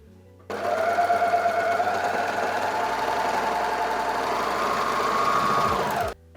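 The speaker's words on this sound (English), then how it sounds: "Now take the lining waistband pieces and overlock the side edges" An overlocker runs steadily, sewing the side edges of skirt lining waistband pieces; a continuous close, loud mechanical hum that starts abruptly and stops cleanly after about six seconds.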